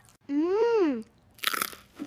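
A brief, crisp crunch of homemade food being bitten and chewed, close to the mic, comes right after a short rising and falling vocal exclamation.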